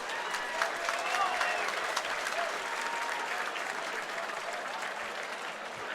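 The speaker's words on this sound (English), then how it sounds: "How about a round of applause for both of these competitors?" Crowd applause at a combat sports fight night fills the room steadily and loudly, a dense sustained clapping with crowd noise and no clear speech over it, right after the bout ends and before the scorecards.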